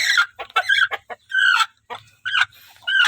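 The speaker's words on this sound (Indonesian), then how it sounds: "Ini ada ayam." Chickens cluck close by in a series of short, loud, choppy calls with brief pauses between them.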